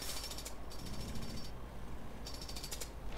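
A jackhammer pounds in rapid repeated bursts inside Euro Truck Simulator 2, heard at moderate distance over a constant mechanical rumble, with short pauses between bursts.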